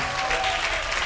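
A church congregation applauds loudly and steadily in praise of the Lord, a dense wash of clapping filling the whole moment with crowd murmur underneath.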